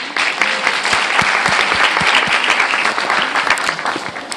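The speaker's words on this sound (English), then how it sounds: "a round of applause for our model here." A small audience claps for a hair model at a hairstyling demonstration, steady dense applause lasting several seconds at close range with no voices over it.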